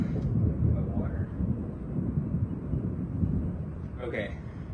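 A thunderstorm rumbles as a deep, continuous roll of thunder with wind and rain noise, heavy and steady throughout.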